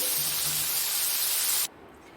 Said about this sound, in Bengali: সমস্ত চিংড়ি মাছগুলোকে এইভাবে ভেজে নিই